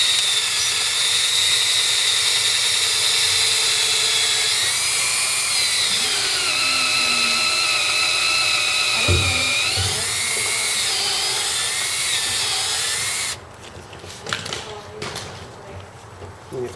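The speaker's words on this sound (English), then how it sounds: "All right, so power tool. Who wants to be the power tool person?" A power drill bores through a wooden table, whining steadily at high pitch with slight shifts in speed for over ten seconds, then stops abruptly as people talk nearby.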